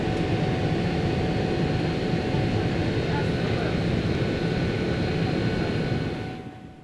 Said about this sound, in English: that was a pretty shaky takeoff for a large aircraft like a 777